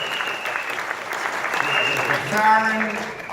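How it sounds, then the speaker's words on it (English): Audience applause at an AFL-CIO labor union convention, a steady wash of clapping from a large crowd with some voices and a sustained tone faintly underneath. "Let's give Dennis Hughes a round of applause for all his leadership and good efforts."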